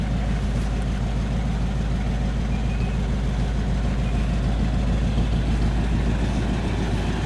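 Engine of a 1953 Cadillac Eldorado convertible running close by, a steady deep rumbling drone that holds even throughout with no clear rise or fall in revs.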